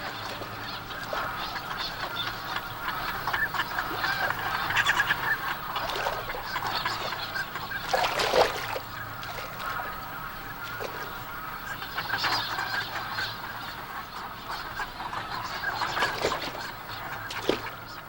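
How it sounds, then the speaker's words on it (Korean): Autumn flocks of migratory waterbirds, geese and ducks, at the Upo wetland, honking and calling in a dense continuous chorus with louder bursts standing out from the steady crowd of voices. "가을이 깊어가면 우포늪의 주인도 철새로 바뀐다."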